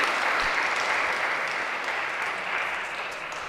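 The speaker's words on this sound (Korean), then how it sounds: "박수로 환영해 주시기 바랍니다" A church congregation at a Sunday service applauds in a dense, sustained round of clapping that stays loud and close, then eases slightly toward the end.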